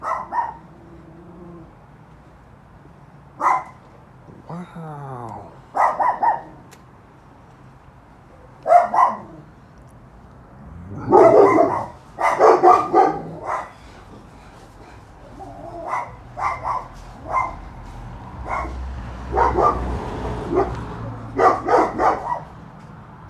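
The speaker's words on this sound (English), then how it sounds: "those dogs are not happy" Dogs bark in scattered bursts, some sharp and some drawn out, with a man briefly exclaiming in between; moderately close.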